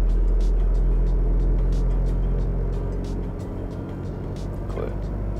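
A car engine accelerates uphill during a driving lesson, a steady droning rumble with some road noise that holds under the drive and eases slightly toward the end.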